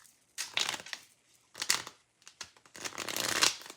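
Tarot cards are shuffled close up in three separate bursts of crisp, papery riffling, each rising and then stopping, with quiet gaps between them.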